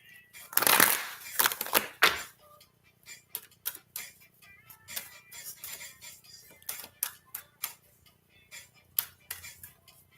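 Tarot cards are shuffled in a series of crisp riffling bursts and light taps, louder at first and then settling into irregular soft clicks, close and alone without talk.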